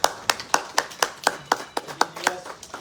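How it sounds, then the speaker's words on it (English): A small group at a community meeting on sewage backups claps for government agency representatives: about a dozen sharp, evenly spaced claps that thin out toward the end, fairly close and dry. "Get a round of applause."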